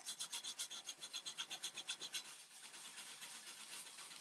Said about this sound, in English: And then I'm going to grab my finishing pad.